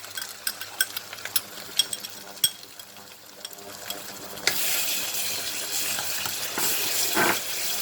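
Onions fry in a pan as one and a half spoons of tomato paste go in; scattered spoon scrapes and taps give way to a louder, steady sizzle that continues close and unbroken.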